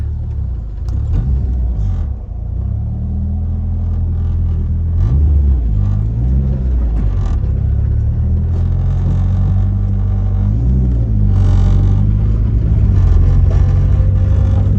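An old Toyota JS 2G car driving after a decade off the road, its engine giving a steady low rumble with gentle rises in revs, heard close from inside the cabin.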